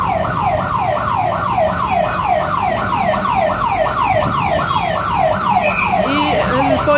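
A loud, close intensive-care ambulance siren wails in fast repeating up-and-down sweeps over a low rumble of traffic, with a brief extra tone near the end, amid a protest march blocking the road.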